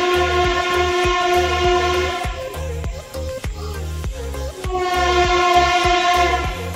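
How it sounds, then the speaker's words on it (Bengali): A train passes near a jammed road while a bus crosses toward Farakka. Its horn blares in long sustained blasts with a pause in the middle, and rumbling rail noise runs underneath, loud and close. "ওদিক দিয়ে ট্রেন যাচ্ছে"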